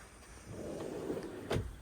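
A large drawer in a 2025 Adria Matrix Supreme 670 DL motorhome slides open with a soft rolling scrape, ending in a light knock, heard close by against a quiet background hiss.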